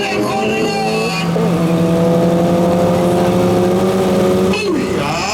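A Boost Factory all-wheel-drive Nissan B13 with a turbocharged SR20VET engine launching at a drag strip, loud sustained engine roar with rising pitch as it pulls away, mixed with crowd and track noise.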